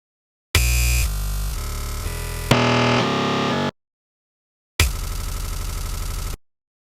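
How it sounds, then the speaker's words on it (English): Beat loop processed by Ableton Simpler's Beats-mode warping in loop forward mode, with segments between transients repeating forwards; dense, loud, glitchy textured bursts for about three seconds, a gap of silence, then another stuttering loud burst. "In loop forward mode, the audio segments between transients only loop forwards, which sounds like this."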